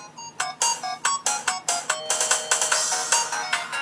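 A song blasts loudly from a WowWee Groove Cube Bluetooth speaker, a dense, bright electronic dance track with a steady pulsing beat that plays alone for a few seconds.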